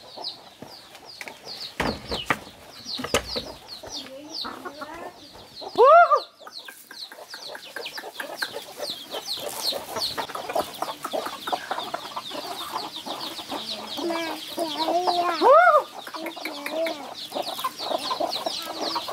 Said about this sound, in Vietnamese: Nè, cho gà ăn này.